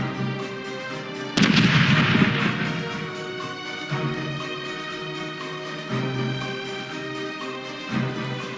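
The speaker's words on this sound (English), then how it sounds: "Starboard is ready to fire!" Ship cannons fire from the starboard side in the pirate game Corsairs Legacy: one heavy booming volley crashes in and rumbles away, over steady game music and ambience, with a few softer thuds afterward.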